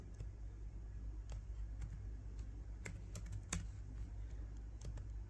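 Keys tapped on a computer keyboard during a CSS coding lesson, scattered soft clicks over a steady low hum, quiet and close with no voices.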